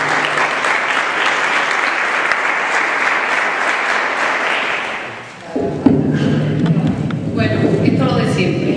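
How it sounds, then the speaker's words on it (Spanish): An audience at a left-wing political rally bursts into loud, sustained applause that fills the hall for several seconds, then fades as a speaker begins talking at the microphone over a few lingering claps. "Un aplauso para ella."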